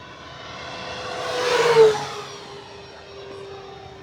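An E-flite T-28 Trojan V2 RC airplane, 1.2 m span, passes at full throttle with a whining electric motor that swells to a peak and then fades as it moves away.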